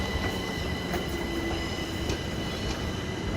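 A Class 455 electric train rolls through Clapham Junction, giving a steady close rumble of wheels on rail with faint squeals throughout.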